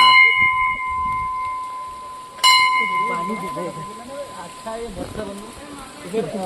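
A single bright temple bell strike rings out with a long, sustained metallic tone, while people talk nearby and rain patters in the background at a hillside temple near Amboli waterfalls.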